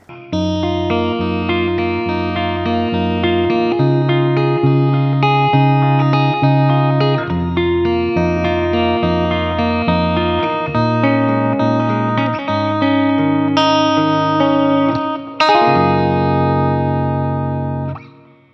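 An electric guitar plays through a multi-effects unit on a clean factory preset, giving loud, sustained, clear chords and ringing notes with light chorus shimmer. The chords change in steady steps and a final strum fades out.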